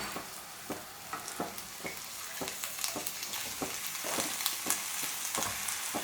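Medium-sized chicken pieces dropped into hot masala for a curry leaves chicken curry, frying with a soft steady sizzle punctuated by repeated spoon stirs and scrapes, fairly quiet and close with nobody speaking.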